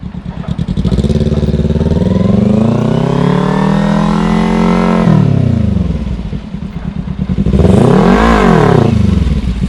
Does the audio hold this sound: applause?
no